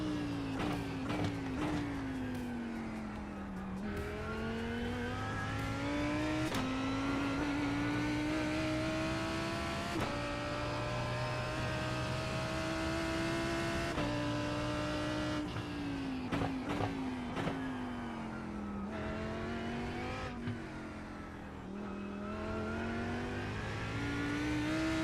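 A Lamborghini engine in a racing video game, heard as a continuous loud revving whine that climbs and drops through gear changes across a lap.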